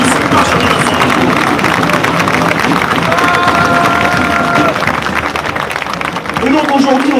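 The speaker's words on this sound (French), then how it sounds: "Un tonnerre d'applaudissements pour cette marche" Girondins de Bordeaux supporters rallying on Place Pey Berland applaud a march, their clapping and cheering forming a dense, steady roar that fills the whole stretch, with voices mixed into the crowd noise.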